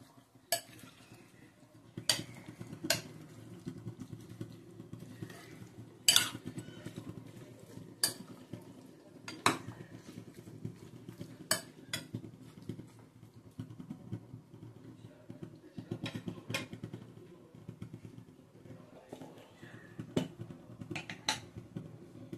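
A spoon stirs fried onion into a mixture in a bowl for mourola fish paturi, with sharp scattered clicks of metal against the bowl repeating irregularly across a long stretch over a low steady background hum.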